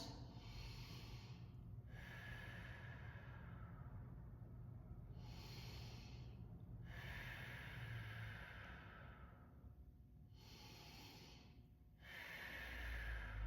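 Slow, deep breaths are taken in and let out while holding a low yoga lunge in a class using blocks and straps. Several long, airy inhales and exhales follow one another close by, soft and steady, with no talking.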